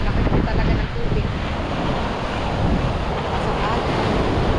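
Big storm-driven waves crash and roar on the sea in a dense, continuous wash of surf, with strong wind buffeting the microphone throughout.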